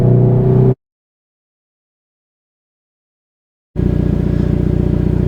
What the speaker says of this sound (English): The exhaust note sounds great.